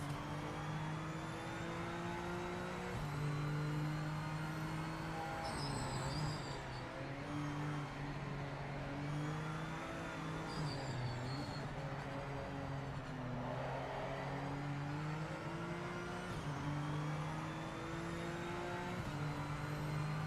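Race car engine in Project Motor Racing, droning steadily with stepped pitch drops and blips as the driver downshifts under braking, loud and continuous with no talk.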